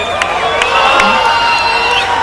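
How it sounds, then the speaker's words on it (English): Arena crowd at a World Extreme Cage Fighting event cheering and whooping loudly and steadily as a submission fighter from the Northwest Elite Fight Team is introduced, a dense roar with shouts rising above it. "And the crowd recognizes him"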